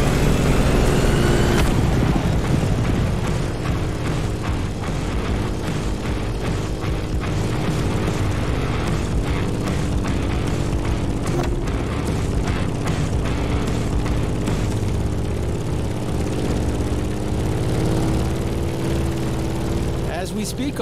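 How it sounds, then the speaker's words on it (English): Grumman F8F Bearcat propeller fighter plane flying in The Crew Motorfest, a loud continuous droning engine roar that stays steady throughout, with a sharp change near the start. "In the cockpit of a stunning Grumman F-8F Bearcat, or simply the Bear."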